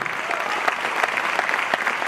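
An audience at an Amway Diamond celebration event claps steadily in sustained, dense applause heard from within the crowd, with no talking.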